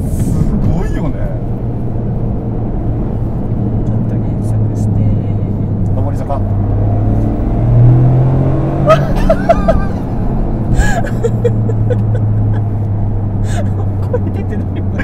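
A Toyota GR Corolla Morizo Edition pulls through the gears on a public road, shifting up into fourth, with a steady close engine drone under almost constant conversation and a few gasps inside the cabin.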